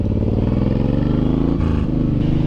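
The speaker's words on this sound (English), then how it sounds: "Stop your motorcycle on a hill." A Suzuki M109R cruiser motorcycle's engine drones loud and close while riding, its steady tone dropping and shifting midway as the rider eases off and changes pace.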